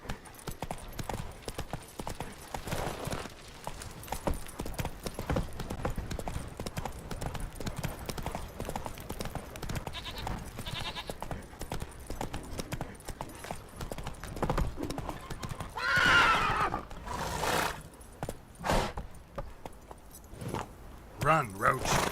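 Roach the horse in The Witcher 3 galloping with rapid rhythmic clip-clop hoofbeats, with a neigh or whinny near the end and a voice urging the horse on over the hooves.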